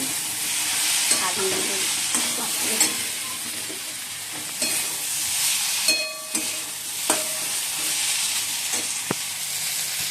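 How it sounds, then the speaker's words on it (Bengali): Maggi noodles with egg, fried onion and spice masala stir-fried in a pan: a loud, continuous sizzle broken by scraping strokes and occasional metallic clanks of the spatula. "ম্যাগি সেদ্ধ হয়ে গেছে, চারিদিকে মশলাটা কষাচ্ছি"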